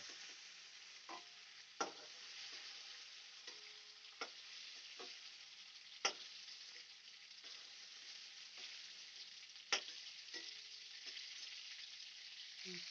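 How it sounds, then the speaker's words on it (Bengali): Prawns frying in oil make a steady, close hiss of sizzling throughout, broken by a few sharp clicks and scrapes of stirring. "চিংড়ি মাছগুলো আমি হালকা লাল করে ভেজে নিয়েছি"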